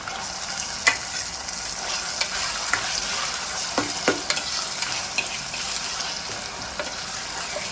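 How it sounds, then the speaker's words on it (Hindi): Chicken frying in a pan with ginger-garlic paste and salt, a dense steady sizzle broken by several sharp scraping stirs, close and without talk. "1 से 2 मिनट चिकन की भुनाई करेंगे अदरक लहसुन के साथ में।"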